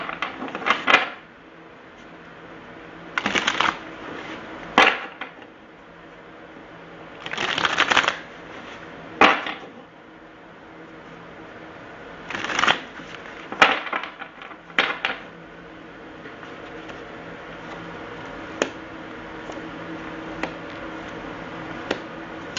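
Egyptian tarot cards being shuffled in bursts of crisp riffling, several distinct shuffles spaced through a quiet room, close and clear with no talk.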